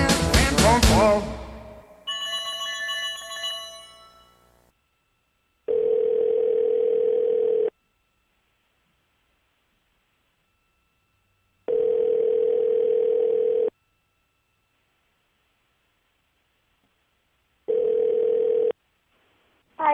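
A telephone call is placed: after a short burst of music and chime tones, a steady ringback tone sounds in three long, evenly spaced pulses separated by silence.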